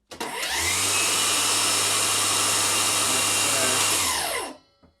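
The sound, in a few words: battery-powered Skil-style power tool switched on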